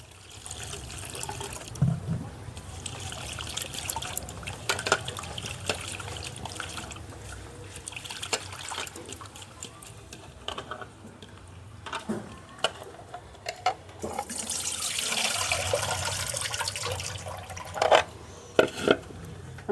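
Fresh leaves for a leaf sherbet are rinsed by hand in water. Close splashing, dribbling and trickling come in uneven bursts, with light handling noises between them.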